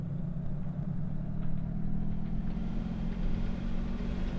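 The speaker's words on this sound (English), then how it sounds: "You hear the engines warble like that." Twin engines of a Carenado B58 Baron in X-Plane 11 power up into a steady, throbbing drone that builds slightly and holds at a moderate level, with no speech.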